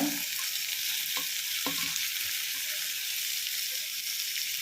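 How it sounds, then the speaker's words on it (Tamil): Tomatoes sautéing in a pan for chicken curry, a bright, continuous hiss of frying, with a few quick utensil taps early on, close and even, no speech. "இப்போ தக்காளி போட்டு நல்லா அது வதங்கட்டும்"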